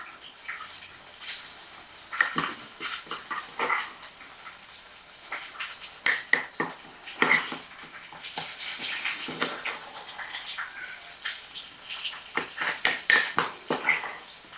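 Utensil clinks and scraping against a bowl as a mixture is stirred, with irregular clattering taps throughout, close and moderately loud.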